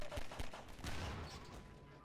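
Gunfire in the Half-Life 2 video game: a few sharp shots in quick succession near the start, followed by a dense, noisy burst of weapon sound, with some talking mixed in.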